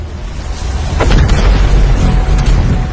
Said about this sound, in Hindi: इस विस्फोट से जन्मी झटके की लहर 550 किलोमीटर प्रति सेकंड की रफ्तार से आगे बढ़ी।